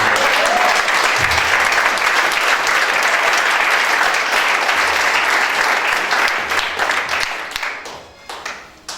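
A church congregation applauds during a French-language worship service: loud, dense, sustained clapping from a crowd that tapers off into scattered claps at the end.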